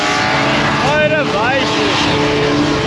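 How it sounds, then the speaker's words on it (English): Engine roar and rising revs from a car doing burnouts at the Motorvation motor show, with tire squeal in the background under loud announcer talk over a crowd. "Burnouts at the back!"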